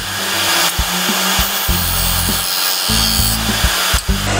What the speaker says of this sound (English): Now I need to make the outside, again with a spinning gouge.